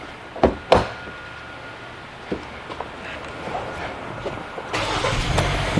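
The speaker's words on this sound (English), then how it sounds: "let's start the engine." A Hyundai Sonata in a repair shop cranks and starts near the end, rising into a steady idle after a few clicks and quiet knocks.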